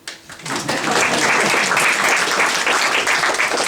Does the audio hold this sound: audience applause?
yes